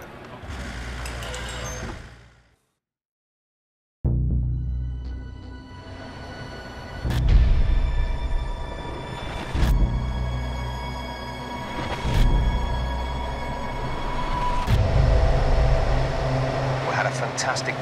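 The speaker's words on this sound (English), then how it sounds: "Get the car off the jacks and start the engine." Formula One car engine firing up in F1 2010 at Kuala Lumpur, a loud mechanical roar that starts after a brief silence and keeps rumbling with sharp revving bursts, the engine settling into a steady idle beneath.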